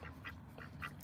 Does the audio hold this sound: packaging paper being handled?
no